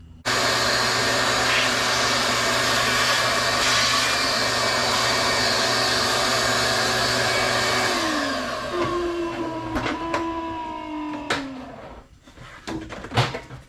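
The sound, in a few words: vacuum running in garage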